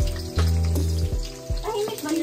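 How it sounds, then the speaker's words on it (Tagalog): Water bubbling and sizzling as it comes to a boil in a pot, a steady close rumble with low hums and bursts of noise while people talk nearby. "Uy, kumukulo na."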